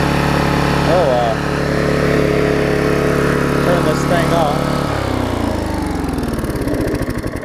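Vulcan 18-inch lawn mower engine running close and loud at a steady buzz with occasional chirps over it, then shut off near the end, winding down and sputtering to a stop.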